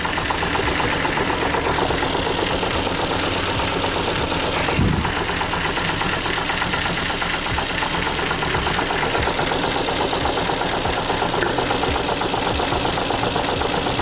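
Ford Fiesta engine idling with one cylinder's ignition unplugged, a steady loud uneven running drone with a faint knock throughout.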